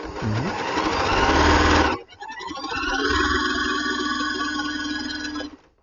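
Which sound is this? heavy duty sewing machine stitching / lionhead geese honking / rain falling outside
heavy duty sewing machine stitching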